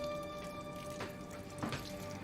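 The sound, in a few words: water running from a tap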